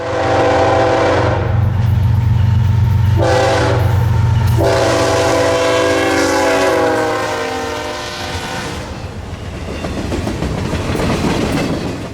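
A loaded CSX military freight train led by two BNSF locomotives roars past in a quiet North Carolina town, its horn sounding loud in long blasts over heavy engine rumble, followed by rolling wheel clatter.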